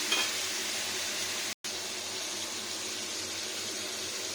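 Vegetarian cabbage curry sizzling steadily in oil in a pan, a dense continuous hiss with a brief cut of silence midway, no talking.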